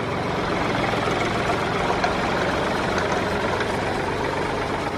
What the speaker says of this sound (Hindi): अब हमारा ट्रैक्टर आगे पीछे हो रहा है